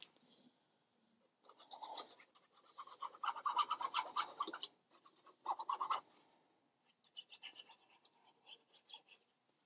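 Paper being scored and folded for a mini album pocket, repeated scraping strokes in bursts separated by brief pauses, close and moderately loud with soft rubbing between passes.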